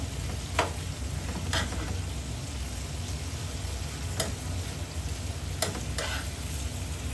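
Fish or meat frying in oil, a steady moderate sizzle with a few sharp clicks of a utensil against the pan.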